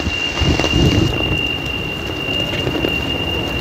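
Heavy rain pours down during a cyclone with thunder rumbling, a dense continuous hiss of rain close by with low booming swells near the start, no voices.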